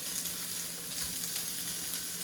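Sausage chunks for holiday stuffing fry in a lightly oiled pan with a steady, close hiss and crackle that runs unbroken and without talk.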